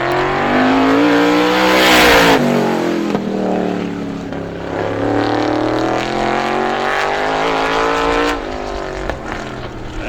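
ISMA supermodified race car lapping Star Speedway in time trials, a loud sustained engine howl that rises and falls through the corners, close and continuous for the whole lap.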